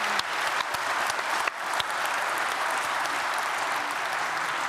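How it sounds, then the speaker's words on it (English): A conference keynote audience applauds the panel with dense, sustained clapping that fills the room evenly from start to finish, a few sharper claps standing out near the beginning. "Please give them a big round of applause."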